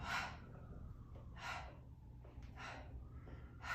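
Deep, forceful breaths during a Pilates breathing exercise, four close airy exhales and inhales in a slow, steady rhythm, with no talking.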